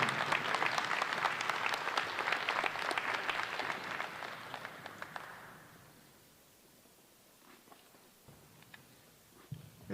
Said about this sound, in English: Let's have one more big round of applause